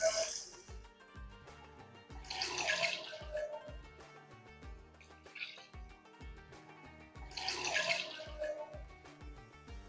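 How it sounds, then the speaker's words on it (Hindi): Water poured into a pot of fried spices for pulao rice in several gushing splashes with pauses between, set against a rhythmic music bed, no talking. "मसाले भूनने के बाद चावलों के लिए इसमें डालेंगे 4 कप पानी,"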